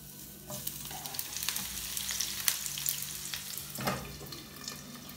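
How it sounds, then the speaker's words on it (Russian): Half-ring sliced onion fries in vegetable oil in a pan, a steady soft sizzle and crackle with occasional stirring scrapes, close and quiet. "Пока жарится лучок"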